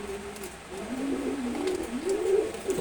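Khaki pigeon cooing close by, a soft low rolling coo that rises and falls in a couple of smooth phrases against quiet background noise.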